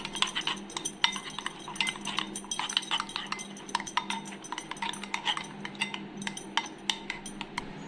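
A spoon clinks rapidly and steadily against a bowl while stirring turmeric, coriander-cumin powder, salt and Kashmiri red chilli into yogurt, close and fairly loud, with no voices.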